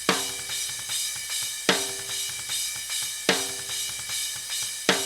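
Snare drum picked up by a condenser microphone on the top head, struck in a steady pattern with sharp, bright hits roughly every second and a half and quieter ghost strokes between them, close and dry, no voices.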